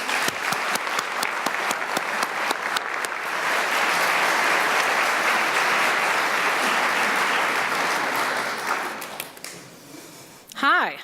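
Audience applause welcoming a speaker at a book talk, a dense sustained clapping from a full room that holds steady for about nine seconds, then thins out and fades, with a brief voice at the very end.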